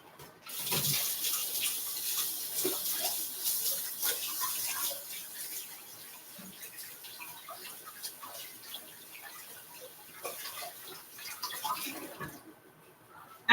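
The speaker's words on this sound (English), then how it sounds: "I'm just going to wash my hands again." Hands being washed under a running kitchen tap while cooking breadfruit fritters with saltfish: a steady, soft stream of water with splashing and rubbing. It grows louder after the first second, eases off near the end and then stops.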